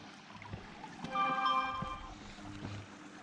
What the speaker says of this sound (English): That's just my tracker telling me I'm off track.